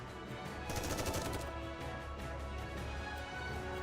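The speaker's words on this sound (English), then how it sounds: "Mori fires a barrage of bullets" A rapid barrage of gunfire in the video game Goddess of Victory: Nikke, dense continuous automatic shots with crashing impacts, steady and loud with no talk.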